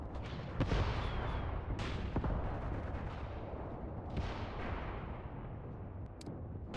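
Dense, continuous gunfire and battle noise from a World War II tank combat game, Mius Front, with rapid machine-gun bursts over a constant roar of distant artillery and explosions, sharp nearer shots cracking through.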